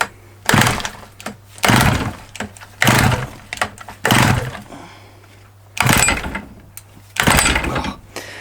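A 1982 Dolmar 100 chainsaw engine fires in about six loud, short bursts, revving up and then dropping back between them as the throttle bounces, heard up close.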